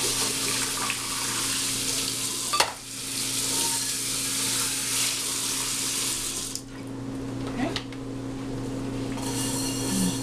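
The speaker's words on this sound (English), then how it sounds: "we're gonna wash it real quick, of course." An Orgreenic frying pan is washed under a running tap, giving a steady broadband rush of flowing water with a couple of brief knocks and shifts in the stream, and no talking.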